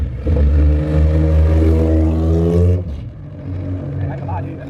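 On its first drive after first start-up, the engine of a Honda EK all-wheel-drive wagon drones loudly and evenly as it pulls for a few seconds, then the note drops away to a quieter, rougher rumble.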